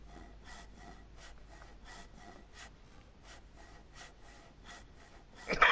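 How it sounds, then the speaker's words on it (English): Handsaw cutting wood in the video game DayZ during base building: a steady run of about a dozen rhythmic rasping strokes, fairly quiet, ending in a louder burst. "We're going to grab the handsaw in our hands."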